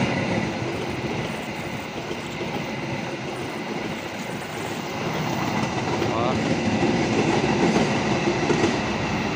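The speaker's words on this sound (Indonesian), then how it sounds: "Pelan banget jalannya, bos. Argo Bromo Anggrek ya, generasi baru." The new-generation Argo Bromo Anggrek train passes slowly and close, a continuous rumbling roar with clickety-clack from the wheels that grows slightly louder toward the end; a man briefly exclaims over it.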